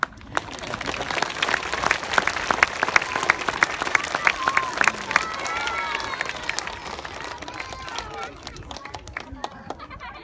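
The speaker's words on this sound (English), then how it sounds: "Give Miss Kudla a round of applause." An audience applauds a school staff member, Miss Kudla, at a memorial playground event, with dense steady clapping throughout, some cheering and chatter mixed in, and a voice speaking over the crowd.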